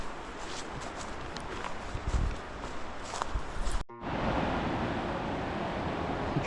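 The Whitewater River rushes beside the Foothills Trail below Upper Whitewater Falls, a steady broadband roar. Footsteps and wind buffeting cross the microphone at first, then the sound cuts to a fuller, even river rush.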